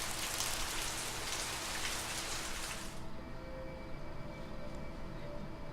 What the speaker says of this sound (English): It's raining now! It wasn't raining before, it's raining now though.